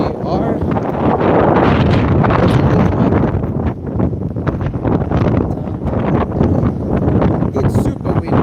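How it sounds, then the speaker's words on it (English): Strong gusty wind buffets a OnePlus 13 phone microphone on a street in Turku, a loud, constant roaring rumble that surges and dips, with a voice talking under it. "It's super windy here"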